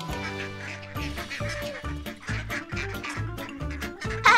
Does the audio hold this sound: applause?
no